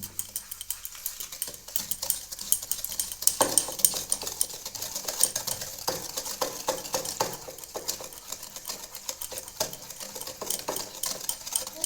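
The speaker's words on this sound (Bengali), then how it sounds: "এই সাদা তেলটা ফেটিয়ে নিন" White cooking oil being whisked by hand in a bowl for a yogurt cake, a steady run of fast scraping, clinking strokes that carries on throughout with no talking.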